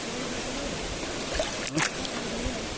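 Steady rushing water noise from a flowing river in Nagcarlan, continuous and broad, with a brief rustle or handling sound in the middle.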